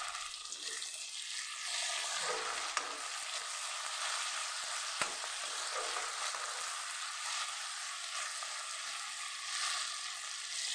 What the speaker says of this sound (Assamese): এতিয়া ইয়াক ভালকৈ লৰাই দি দিম অলপ।